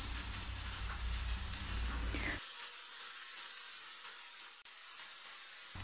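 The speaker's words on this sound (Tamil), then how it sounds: "ஸ்டவ்வை மிதமான தீயில வச்சு ஒரு சைடு நல்லா ஃப்ரை ஆகணும்" Bitter gourd slices frying in oil on a medium flame, a steady broadband sizzle that is loud for the first two seconds and then drops to a softer, continuous crackle.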